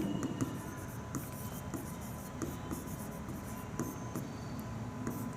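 Marker or chalk strokes on a board during a chemistry class, a faint continuous scratching with small taps at intervals, steady and close, with no talking.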